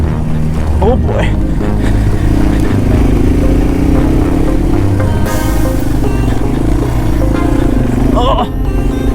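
A 2021 Yamaha TW200 motorcycle ridden off-road, its engine a loud, close, continuous thrum with shifting pitch and brief sharp bursts, shouts rising briefly over the engine.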